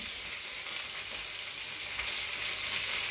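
Chopped onions and garlic fry in a pan with a steady, even sizzle, close and continuous with no voices over it.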